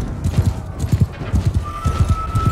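Horse galloping in the medieval battle game Mount & Blade 2: Bannerlord, with loud, close, rapid rhythmic hoofbeats pounding steadily throughout and a faint sustained tone appearing near the end.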